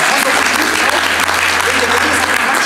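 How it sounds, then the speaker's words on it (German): A crowd applauds loudly and continuously, dense clapping filling the whole moment without a break. "Mit einem dicken, fetten Applaus,"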